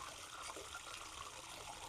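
Water flowing steadily in a rural creek, a continuous broadband rush and trickle at moderate distance, with no talking.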